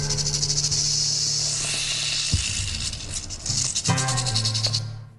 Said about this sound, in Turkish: Filmlerdeki çıngıraklı yılanla başlayalım.